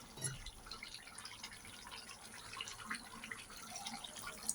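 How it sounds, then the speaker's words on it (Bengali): Boiled bottle gourd water pours into a pan with a faint, steady trickle and splashing that continues throughout at low volume. "এই লাউয়ের জলটাই ঢেলে দেবো"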